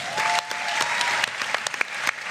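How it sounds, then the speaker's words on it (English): Crowd applauding contestants at a Shark Tank-style pitch event, a brisk, continuous clapping with sharp individual claps standing out through the short burst. "Let's give them another round of applause."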